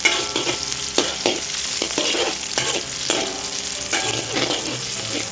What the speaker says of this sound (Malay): Kita tumis dia sehingga sedikit wangi.